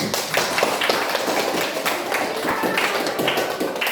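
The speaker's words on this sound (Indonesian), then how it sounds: "Tepuk tangan." Classroom applause during a teaching session, a steady dense patter of many hands clapping throughout, fairly loud and continuous with no clear talk over it.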